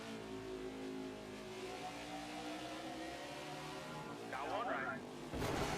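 Race car engine in NASCAR 21: Ignition holding a steady, droning tone with harmonic whine, rising and revving toward the end, with a burst of noise near the close; a voice talks over it.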